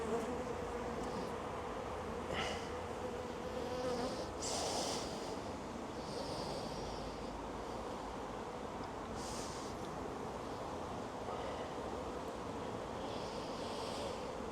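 Honeybees droning steadily around an opened hive during a frame inspection, a continuous low buzz with occasional louder passes of individual bees close by, no talking.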